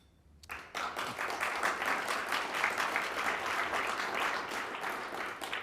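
Applause from supporters in a crowd at a Canadian Club event, a sudden burst of dense clapping that swells quickly and holds steady and loud, with scattered cheers mixed in.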